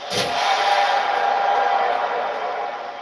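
Roaring arena crowd at a WWE wrestling show, a dense sustained wall of cheering and shouting that holds steady and loud throughout.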